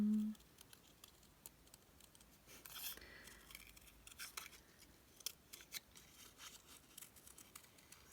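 Scissors snip through a second paper cutout during a winter card-making craft session, giving a run of faint, crisp clicks and crinkles spread across the span, close but quiet, with no talking.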